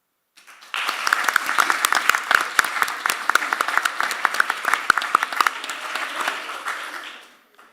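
An audience at a school district board meeting bursts into sustained applause, loud and dense for several seconds before tapering off, with faint voices mixed in.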